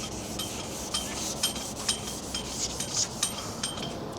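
Sandpaper rubs across a van wing during wet sanding in repeated back-and-forth strokes, a rhythmic rasping scrub with regular sharp accents, close and fairly loud with no talk.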